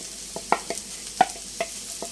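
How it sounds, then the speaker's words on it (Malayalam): Chopped red spinach stems stirred in a hot pan for a Kerala-style thoran, a few sharp spoon scrapes and taps spaced over a soft steady sizzle, close and fairly quiet. "കട്ട് ചെയ്ത് മാറ്റി വെച്ചിരിക്കുന്ന ചീരയുടെ തണ്ടില്ലേ, അതിട്ട് കൊടുക്കാം കേട്ടോ."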